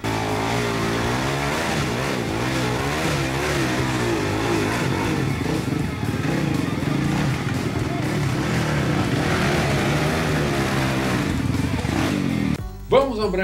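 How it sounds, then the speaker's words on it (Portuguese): Support motorcycles on a muddy trail ride in Criciúma, Brazil, rumble and rev continuously as they ride past close by, with a steady droning roar throughout. "Duas motos de apoio apareceram e se juntaram ao grupo."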